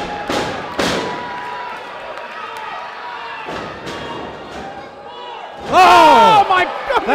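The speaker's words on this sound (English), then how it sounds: "Missile dropkick." A wrestler lands a missile dropkick in the ring at an independent wrestling show in Brooklyn, New York: heavy thuds on the mat, then a loud crowd roar with a commentator's voice over it.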